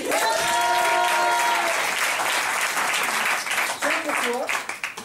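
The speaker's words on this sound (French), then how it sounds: "Applaudissez-le encore!" Audience applause at a theatre and improvisation festival, dense clapping filling the hall with a speaker talking over it before the clapping thins out into scattered claps.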